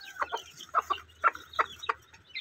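A mother hen in a brooder cage clucks with her chicks, giving a series of soft, close clucks in irregular pairs and short bursts, with faint peeping in the background.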